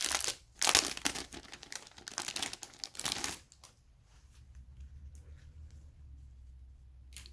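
Crinkly handling of new mission cards and packaging from a Yedo board game expansion box, close and busy for about three seconds with sharp rustles and crackles, then fading to quiet faint fiddling.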